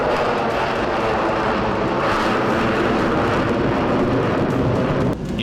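A Tu-160M long-range bomber roars in a steady, loud, broadband jet rumble that holds without a break and dips slightly at the very end.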